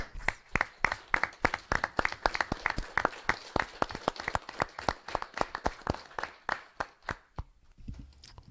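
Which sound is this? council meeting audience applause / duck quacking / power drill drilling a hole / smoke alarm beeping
council meeting audience applause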